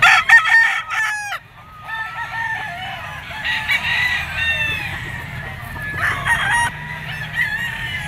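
A two-year-old white-legged bulik banderado gamecock crows loudly and close, with a clear crow at the start and further drawn-out crows that overlap other roosters and scattered clucking from the yard.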